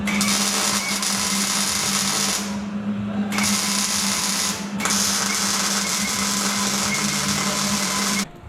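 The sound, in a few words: welding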